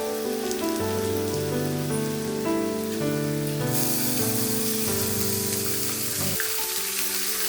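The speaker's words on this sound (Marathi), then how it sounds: "मी आता चिरलेला लसूण घालते, तोही छान परतून घ्या" Chopped garlic and onion fry together in a pan, giving a steady, close crackling sizzle that runs the whole way through over a low tonal background.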